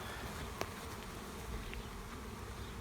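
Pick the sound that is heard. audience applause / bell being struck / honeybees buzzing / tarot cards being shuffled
honeybees buzzing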